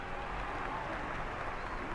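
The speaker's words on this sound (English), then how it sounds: "Clapping." Steady crowd applause in World of Warcraft: The War Within, ringing through the Ringing Deeps as a High Speaker accepts an Honor Guard, a dense continuous clapping wash at even loudness throughout.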